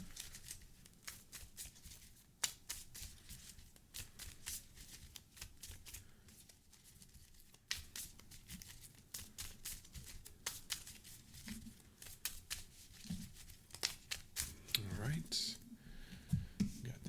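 Playing cards from a Marvel Champions card game are shuffled close up, a long run of quick riffling flutters and soft slaps with brief pauses, a voice murmuring faintly near the end.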